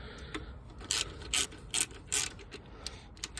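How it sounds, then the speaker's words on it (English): Ratchet with extension and 10 mm socket loosening an alternator bolt on a 2002–2006 Toyota Camry, a series of quick close clicking pawl strokes with several louder bursts, no talking. "Go ahead and get your ratchet with your little extension, with your little 10 millimeter socket."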